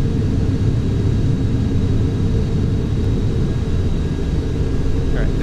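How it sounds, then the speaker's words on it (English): Steady low engine drone of an airplane in flight, a constant loud rumble that holds evenly throughout with no breaks. "I'm also going to try to slow the plane really, really slow."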